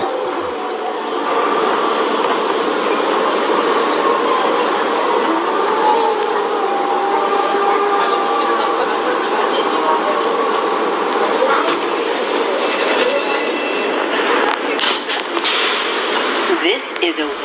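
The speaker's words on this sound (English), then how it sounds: "This is a World Trade Center bound E train." A New York subway E train runs underground, a loud continuous rumbling roar with faint metallic whines and occasional rattles throughout, and no break in the noise.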